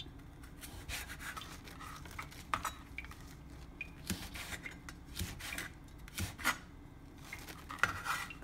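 Quiet, close knife chopping of red chili into small pieces on a board, with irregular taps and scraping rubs, faint and without talk.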